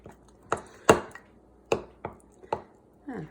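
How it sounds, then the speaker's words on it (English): A spoon stirs sourdough starter mixed with fresh flour in a container, giving a handful of sharp, irregular knocks and scrapes against the sides with quiet gaps between them. "add all the fresh new mix,"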